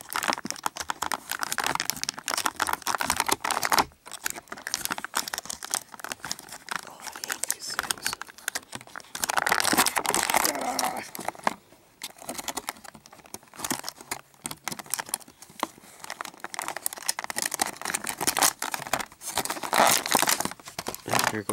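Plastic packaging crinkles and tears while a Ninja Strike Donnie and Leonardo action-figure toy is unboxed, producing dense, close, continuous crackling and rustling with brief pauses.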